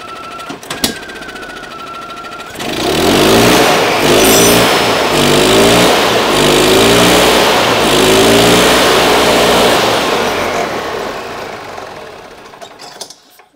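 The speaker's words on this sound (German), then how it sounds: "der Motor läuft wieder" A golf cart engine starts after a valve clearance adjustment and settles into a steady, loud mechanical running hum with a rapid chattering rhythm, holding for about ten seconds before dying away.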